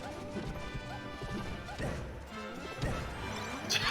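Down smash attacks land in a doubles match of a fighting video game, a run of loud crashing hits and impacts over a busy background of game effects.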